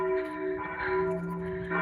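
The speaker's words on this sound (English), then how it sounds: "church bells." Church bells ring in Berlin, a sustained metallic tone with steady overtones carried over light background noise, no voices during the ringing.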